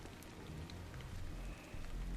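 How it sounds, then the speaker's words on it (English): Rain falls steadily in the video game Stellar Blade, a broad continuous hiss of drops with soft low rumbling underneath, filling the scene without any voices. "This must be Earth's rain."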